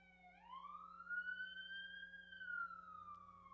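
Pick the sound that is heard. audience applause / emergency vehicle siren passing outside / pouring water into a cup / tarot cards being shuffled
emergency vehicle siren passing outside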